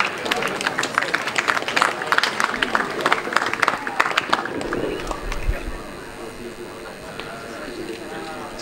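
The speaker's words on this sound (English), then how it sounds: "Please give them a huge round of applause." Applause from spectators at an under-17 youth football match, the Accorsi Cup, crackles as a dense run of claps and cheers that fades into quieter crowd murmur and then ambient noise.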